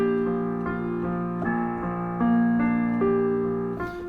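A piano plays the vamp that opens part two of a song, a steady pulse of repeated chords with a shifting inner note, moderately quiet and unaccompanied.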